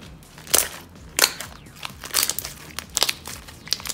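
Golden crunchy slime on a clear base is stretched by hand, giving close, crisp crackling crunches in repeated bursts under a quieter, continuous crinkle.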